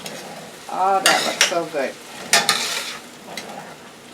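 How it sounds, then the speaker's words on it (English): A seafood ramen noodle stir fry gets a last stir in the pan, with a few brief scraping and sizzling strokes. Someone speaks close by while the stirring goes on. "Give it one last stir."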